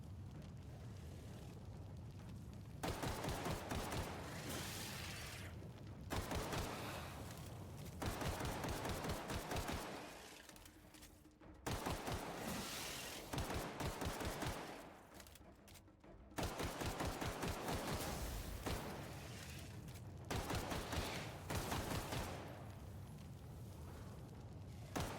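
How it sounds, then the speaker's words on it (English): Sustained bursts of gunfire from the video game Outer Worlds, loud and dense automatic fire in long volleys separated by brief pauses, with booming impacts throughout. "Keep shooting it."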